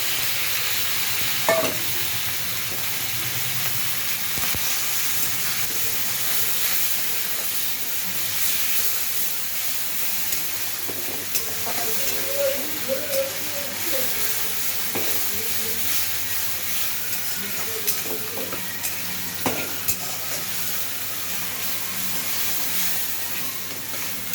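Ginger paste and tomato puree hiss and sizzle steadily in a hot pan while being stirred, a continuous close frying sound with occasional light scrapes and clicks.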